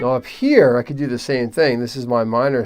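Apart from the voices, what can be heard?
No everyday noise stands out behind the speech.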